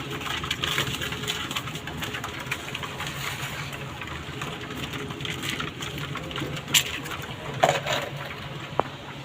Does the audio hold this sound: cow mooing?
no